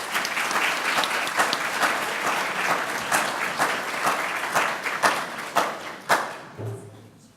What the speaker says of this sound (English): Let's clap them on stage.